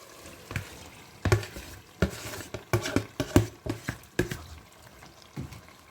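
Tomato goes into a pan of frying marinated chicken with curry leaf, mint and thyme, giving a soft sizzle broken by a series of knocks and stirring scrapes of a utensil against the pan, close by and without talk.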